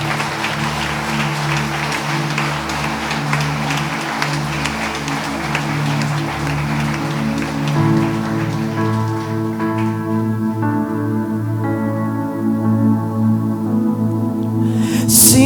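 A church congregation applauding, dense sustained clapping that swells and continues while music with a steady low beat plays underneath.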